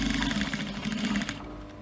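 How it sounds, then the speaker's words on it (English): Close, steady hum of a sewing machine stitching the fabric of a clutch purse, running continuously before slowing and stopping near the end. "start stitching, move all the fabric from underneath and pull it straight."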